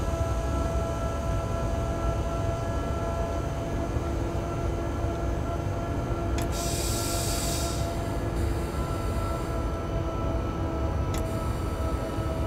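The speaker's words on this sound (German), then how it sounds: "Da bremsen wir natürlich den Zug jetzt runter" An S-Bahn train in Train Simulator 2020 slows under braking, with a steady low rumble of running gear and a sustained tonal whine, plus a brief hiss burst midway; no talking.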